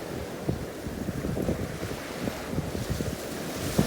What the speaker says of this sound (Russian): Приятный прибой.